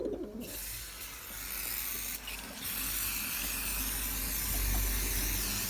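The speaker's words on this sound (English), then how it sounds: "I'm actually gonna just spray the roof down again" Water sprayed down over the roof of a pigeon loft makes a steady, fairly loud hiss that runs unbroken for several seconds, with faint outdoor background beneath it.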